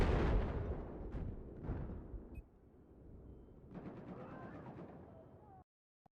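Gunfire in the video game Battlefield 4 during a multiplayer match, a dense burst of shots early on, then quieter scattered fire and a rapid rattling volley later, with the sound cutting out near the end.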